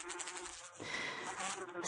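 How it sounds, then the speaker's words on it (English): A bee buzzes steadily among flowers, a close, continuous insect drone that grows louder partway through and keeps going to the end with no one talking. "watched as young Busy Bee darted and dashed from flower to flower"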